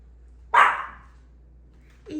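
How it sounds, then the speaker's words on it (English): A small Chihuahua perched on a sofa edge gives one sharp, close bark, then a short softer yip about a second and a half later, in an otherwise quiet room. "They like to sit there on the edge of the sofa and bark at stuff."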